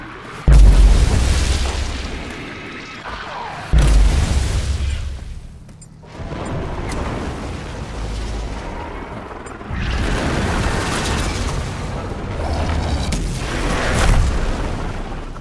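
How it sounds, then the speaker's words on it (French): BFG weapon blasts in the shooter game Rage 2: a series of heavy, booming explosions, two especially loud deep hits followed by rolling rumbles and crackling debris that sustain and swell again, with no talking. "Là, ça va exploser au BFG."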